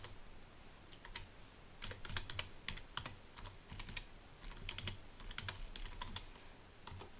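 Someone types a name and an email address on a computer keyboard, producing quick, irregular bursts of close, crisp key clicks with short pauses between them, alone and fairly quiet.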